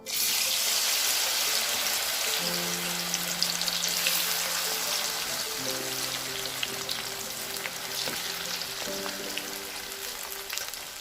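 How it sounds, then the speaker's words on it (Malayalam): Jackfruit pieces deep-frying in hot oil give a loud, continuous bubbling sizzle, with faint tonal hums running beneath it. "അതും ഇതുപോലെ നമുക്ക് നല്ലതുപോലെ മൂപ്പിച്ച് വറുത്ത് കോരിയെടുക്കാം"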